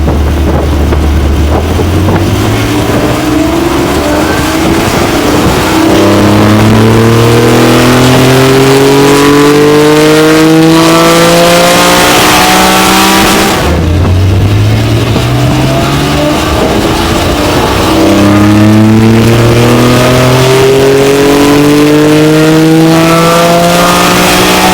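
A Porsche 718 Cayman/Boxster GTS 4.0-litre engine, stock before a remap, revs hard on a dyno, its pitch climbing in long sweeping pulls, several runs in a row, loud and close.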